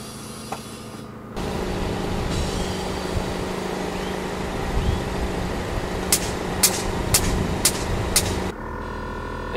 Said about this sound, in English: You can hear the compressor in the back, and we're back to normal ride height.